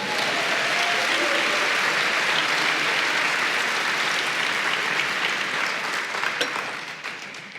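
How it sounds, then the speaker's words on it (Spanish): A church congregation claps in sustained, dense applause after a sermon line, loud and steady at first, then thinning and fading toward the end. "Denle un aplauso al Señor."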